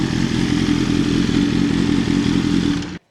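BMW M1000R motorcycle fitted with a servo eliminator, engine running loud and steady at close range inside a hall, a dense mechanical roar with clatter that holds for about three seconds and then cuts off abruptly.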